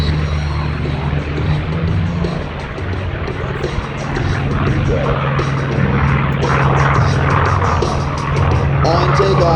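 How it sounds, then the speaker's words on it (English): F4U Corsair propeller plane at an air and space show, its piston engine a loud continuous drone and roar close by throughout, swelling slightly toward the end. "And no, that's not the Rhino. That's Mike Oliver in a Corsair F4U"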